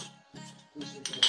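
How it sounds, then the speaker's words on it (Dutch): Dishes clinking and knocking as someone washes up at a sink, in short bursts of clatter that grow louder near the end, with no talking. "Ik ga de afwas doen"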